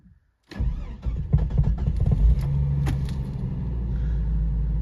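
A car engine cranks and catches right after a neutral safety switch install, turning over from silence into a steady, loud running idle that holds to the end.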